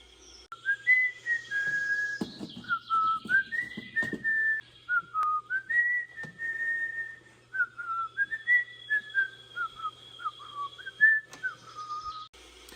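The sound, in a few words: man whistling a tune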